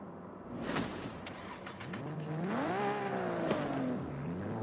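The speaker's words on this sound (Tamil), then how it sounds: "காரில் உட்காருவோம் வண்டியை ஓட்டி பார்ப்போமா" A 1998 Toyota Supra RZ in Forza Horizon 5 revs and accelerates, its engine note climbing in pitch, easing, then rising again, moderately loud with no one talking.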